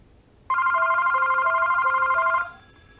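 A single electronic telephone ring, a bright warbling tone lasting about two seconds, sounds clearly against a quiet background.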